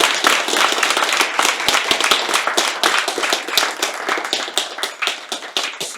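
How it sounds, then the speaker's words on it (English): An audience claps after a talk on the data behind large language models. Dense, even applause rings out close and loud with no talk over it, then tapers slightly toward the end. "another round of applause for him"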